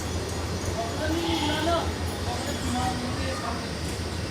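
Goats bleat in short, scattered calls at close to mid distance during an Eid-ul-Adha gathering, with people talking in the background and a steady low hum throughout.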